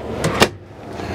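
A large drawer in a 2018 Pleasure-Way Lexor TS Class B camper van opens or closes with two quick, close knocks, the second louder, followed by quiet.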